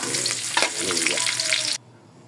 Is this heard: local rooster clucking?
no